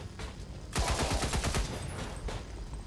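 A soldier's rifle in XCOM 2 fires a rapid burst of close, loud shots in quick succession, then trails off into echoing reverberation.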